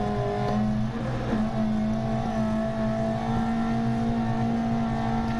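A rally car in DiRT Rally 2.0 running flat out in sixth gear near the rev limiter at around 128 mph: a loud, steady, high engine drone with a constant whine, close and unbroken.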